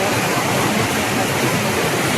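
Penna Baddavolu waterfall in Nellore district, a loud, unbroken roar of rushing water close at hand, dense and even throughout with no pauses.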